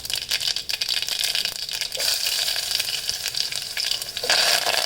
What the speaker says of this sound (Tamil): அதுக்கு எண்ணெய், கடுகு, கருவேப்பிலை, வெங்காயம் போட்டு தாளிக்கணும்